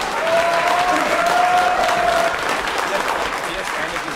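An audience applauds for a comedian at a folk music show, with loud, sustained clapping and a faint whistle-like tone early on, which fades slightly toward the end.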